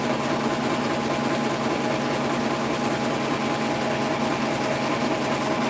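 An embroidery machine sewing a placement stitch for a pumpkin lantern in the hoop, a steady loud mechanical whir with a fast rapid needle rhythm and no pauses.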